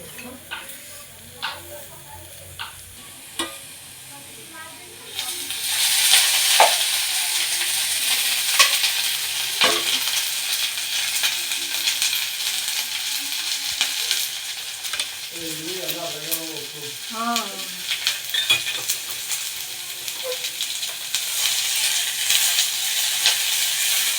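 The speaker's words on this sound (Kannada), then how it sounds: "ಪನ್ನೀರ್ಗೆ ಸ್ವಲ್ಪ ಈರುಳ್ಳಿ ಫ್ರೈ ಮಾಡ್ಕೊತಾ ಇದ್ದೀನಿ" Onions for a paneer dish hit a hot pan and break into a loud, continuous sizzle, with scraping stirs and a brief voice partway through; before that, quieter ticks and clatter of kitchen prep.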